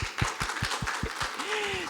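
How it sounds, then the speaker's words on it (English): A scattering of hand claps from a small group, uneven and fairly faint, with a voice murmuring underneath. "Let's give her a hand clap"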